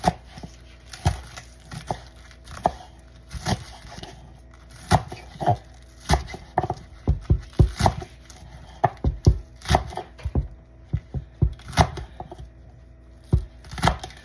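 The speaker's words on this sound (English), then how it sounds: "we're gonna chop some of these onions up" Knife chopping fresh onions on a board in a home kitchen, a steady run of sharp, close knocks in irregular bursts, some quick clusters and short pauses, with no talk.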